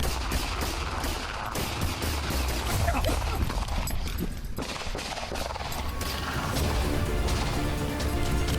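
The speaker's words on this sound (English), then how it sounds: "Shots fired still." Loud, dense bursts of gunfire ring out during a police confrontation with an armed suspect, sharp cracks and impacts piling up in rapid, irregular volleys with barely any pause.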